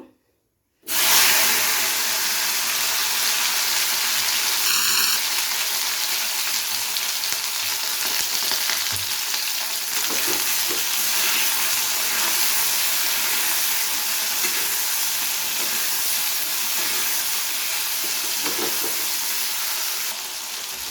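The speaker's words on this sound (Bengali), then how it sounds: "এরপর ভেন্ডিগুলোকে ভেজে নেব" Okra sizzles and spits in hot mustard oil in a pan, a loud, continuous frying hiss that starts abruptly and holds steady throughout with occasional crackles and no talking.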